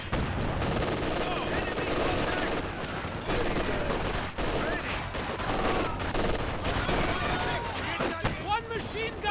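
Dense, continuous machine gun fire in Company of Heroes 2 rattles throughout, layered with explosions and battle noise while voices call out over it.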